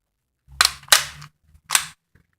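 Air rifle shots fired at a metal lighter: three sharp, loud cracks in quick succession, each a crisp snap with a short metallic ring, separated by brief silences.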